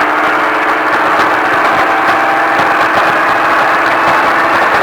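An off-road vehicle engine holds a steady, loud drone on throttle, a dense continuous mid-range roar with a faint pulsing vibration throughout and no talking.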